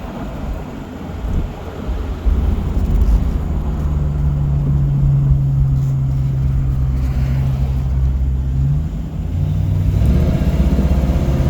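A restored white-over-blue 1966 Ford Mustang convertible, C-code engine, cruising on the road, with a steady low engine drone throughout and a louder surge near the end as the transmission kicks down.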